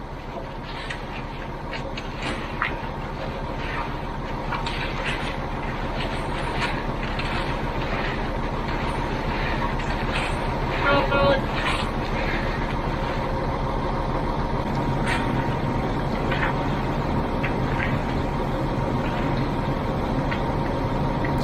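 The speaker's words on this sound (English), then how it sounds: "you can hear the truck running in the background." Truck engine idling steadily in the background at a concrete pouring job site for a garage floor, a continuous low rumble with faint clanks and bumps throughout.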